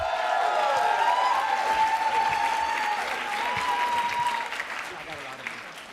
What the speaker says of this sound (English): let's give a round of applause to all of our incoming cohort